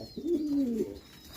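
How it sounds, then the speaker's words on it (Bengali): A large male Iranian homa pigeon gives a single clear, close coo lasting under a second, a low warbling note over light background noise. "এটা একটা নর কবুতর, টপ ক্লাস কোয়ালিটির এক পিস নর"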